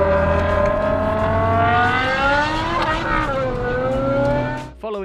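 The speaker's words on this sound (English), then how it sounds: "501 horsepower from a naturally aspirated V10, and the noise like nothing else on the road at the time." Naturally aspirated BMW M V10 engine, 501 horsepower, revving loud and close, its rising and falling harmonic whine sustained throughout before cutting off abruptly near the end.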